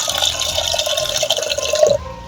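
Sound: water poured onto washed green gram

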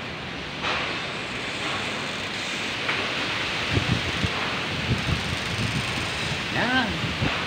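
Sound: strong wind blowing

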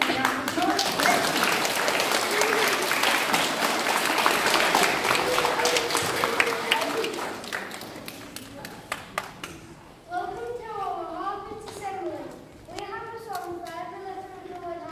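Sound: applause

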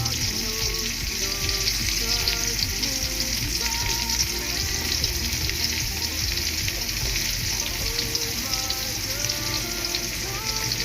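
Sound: chopped onion frying in a pan

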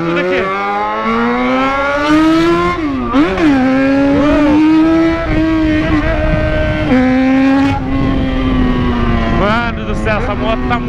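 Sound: loud Yamaha XJ6 motorcycle engine while riding

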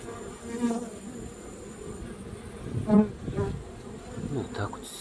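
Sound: honeybees buzzing around hives

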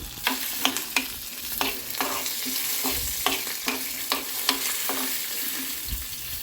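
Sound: frying chana dal in a pan

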